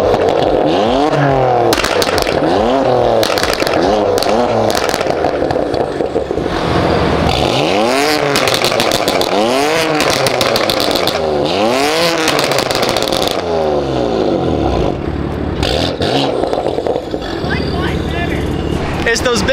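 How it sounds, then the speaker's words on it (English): A lowered BMW M4 with a Grail exhaust revs hard and close, the engine note climbing and falling in repeated sweeps with crackles, and voices heard around it. "Both cars have the exact same exhaust. Let's see if they sound the exact same."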